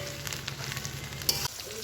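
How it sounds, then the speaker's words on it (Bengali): Chilli chicken pieces fry in a pan with a steady close sizzle, broken by light scraping stirs and a brief louder clatter before the sizzle drops away. "এই যে এখানে চিলি চিকেনের মাংসগুলো ভাজা হচ্ছে"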